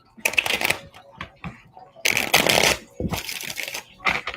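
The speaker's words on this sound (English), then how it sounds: "Let's get another shuffle in here." Tarot cards shuffled by hand during a live reading, coming in several bursts of riffling and slapping with brief pauses between.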